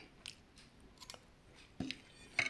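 Someone eats freshly cooked red beans up close, giving a few soft, scattered chewing and mouth sounds with short clicks and smacks against a quiet background.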